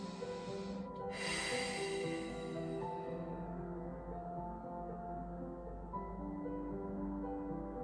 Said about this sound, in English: Take some breaths here.